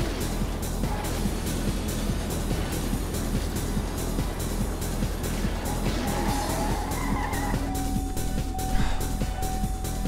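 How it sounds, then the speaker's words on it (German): Tires skid and squeal in the racing video game TrackMania Nations. A continuous car engine roar runs under loud, sustained skidding with rapid regular pulses, and a steady whine enters near the end. "Die Reifen rutschen sich hier ein ab, ey."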